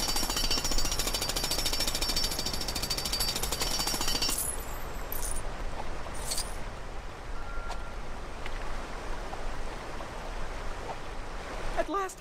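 A jackhammer breaks apart an object in a Lego video game, a loud dense rattling burst lasting several seconds that cuts off abruptly into rushing, water-like ambience with a few faint clicks.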